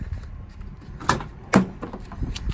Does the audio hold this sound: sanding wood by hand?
no